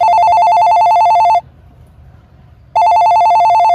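A telephone rings loudly in a steady electronic ring pattern, one burst, a short silent pause, then the ring starts again, with no talking.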